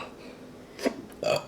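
A person eating spicy Samyang noodles gives two short, abrupt hiccup-like gulps close to the mic, separated by a brief pause, with faint breathing between them.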